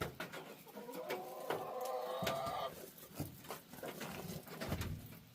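Chickens being fed, kept inside out of the rain, clucking and cooing in a loose flock nearby, with irregular short calls and scattered pecking and rustling noises over several seconds.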